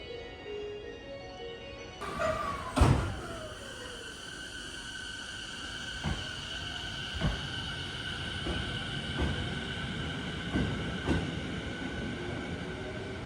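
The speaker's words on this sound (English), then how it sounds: "that train leaving" A train in Japan leaves a station, rumbling and rolling past with steady low noise, a long high-pitched tone and repeated rhythmic clanks of wheels over rail joints.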